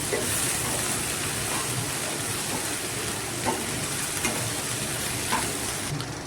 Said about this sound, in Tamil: இப்போ நான் உதிர்த்து வச்சுருக்கிறேன் இட்லியை இதில் சேர்த்துக்கிறேன். சேர்த்துட்டு நல்லா மிக்ஸ் பண்ணிக்கலாம்.